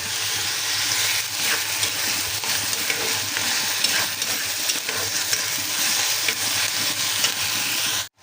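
Onions frying with ginger garlic paste in hot oil, a loud, steady sizzle that runs unbroken throughout with faint stirring scrapes underneath, close up and without any talking.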